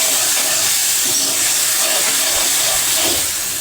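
Tomatoes tipped into hot oil with briefly fried chillies, for a dhaba-style chana dal tadka, set up a loud, steady hiss of sizzling and steam that carries evenly through the whole moment with no voices.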